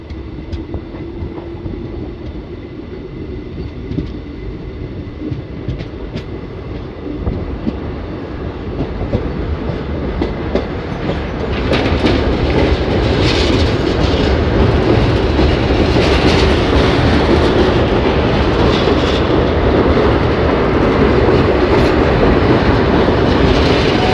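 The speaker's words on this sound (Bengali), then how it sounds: "নবগ্রাম কাঁকুরহাটি হল্ট থেকে ট্রেন ছেড়ে দিয়েছে" The Ahmadpur–Katwa passenger train pulling out of Nabagram Kankurhati halt, heard from on board: a steady rumble with wheel clatter that grows louder and denser as it picks up speed.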